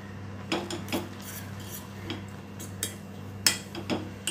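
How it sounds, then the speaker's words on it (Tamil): A spoon scrapes and clinks against a metal pot while stirring flour into boiling water for kozhukkattai dough, with soft irregular taps over a steady low hum of a gas stove. "கொட்டிட்டு அப்படி லேசாக அப்படி கலந்து விட்டிங்கன்னா போதும்."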